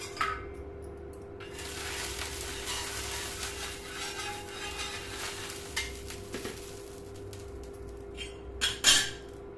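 A drumstick leaf adai cooks in a pan with a little oil, giving a quiet, steady sizzle with light stirring and utensil clinks. A sharp metallic clatter near the end, close by, with no speech.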